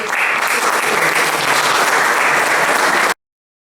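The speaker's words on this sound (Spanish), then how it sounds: "un aplauso a la organización y a todos los" An audience at a demonstration event in Benaolea applauds the organisers, a dense, steady wash of clapping that stays loud and even for about three seconds before cutting off abruptly.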